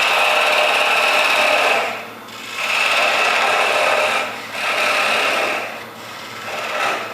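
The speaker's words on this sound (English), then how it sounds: "I'm going to part through right here with the parting tool" A parting tool cuts through a turned wooden sphere spinning on a lathe, giving a steady, close scraping hiss that swells and dips in three or four broad waves as the cut goes deeper.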